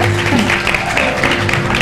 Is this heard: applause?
yes